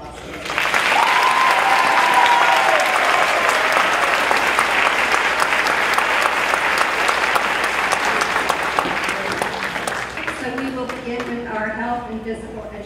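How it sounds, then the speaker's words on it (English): Loud, sustained audience applause at a high school academic awards ceremony, dense clapping that holds steady for most of the stretch before thinning out, with a voice speaking faintly beneath it near the end. "So I'd like to give a round of applause to you."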